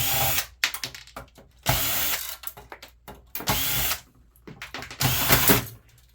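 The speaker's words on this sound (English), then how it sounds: "See how fast can we get the power supply out. 4 screws." Four screws being run out of an old PC power supply with a power driver, heard as loud, close bursts of whirring and ratcheting separated by short pauses.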